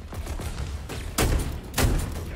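Two heavy, muffled gunshots boom in a Fiesta match of a shooter video game, spaced about half a second apart, over a dense, noisy game soundscape.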